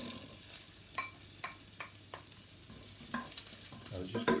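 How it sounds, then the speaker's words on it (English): A large red onion frying and being stirred in a pan, with a steady hiss of sizzling and repeated scraping stir strokes close by, no talk. "what we do is we cook this large onion now"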